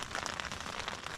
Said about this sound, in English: I've got some light hail bouncing off the tent,